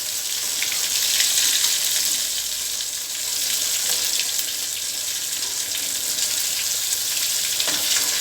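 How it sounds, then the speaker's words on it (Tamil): Fish fries in hot oil with a dense, continuous loud sizzle and crackle that holds steady throughout, heard up close without talk. "நம்ம 2 பக்கமும் திருப்பி போட்டு கொஞ்சம் இந்த சலசலப்பு அடங்கினோடனே நம்ம எடுத்துடலாம்"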